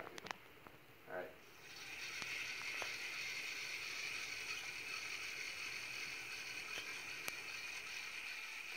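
A Science Olympiad helicopter's rubber motor is wound turn by turn as torque builds, giving a steady, faint mechanical whir and ticking that starts after a brief knock and continues evenly to the end.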